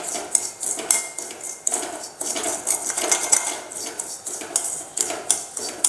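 Semolina roasts in hot ghee in a pan on a low flame, heard as a busy stream of metallic scraping and clinking from a spoon against the pan, close and bright, coming in uneven bursts.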